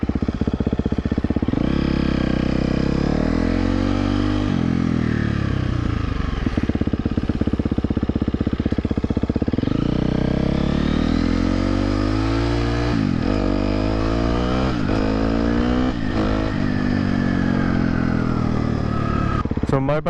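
A 2023 KTM 250 XC-F dirt bike ridden on a street revs loudly and close, climbing and dropping through quick-shifted gears in rising whines and sharp shifts, with a voice faintly underneath.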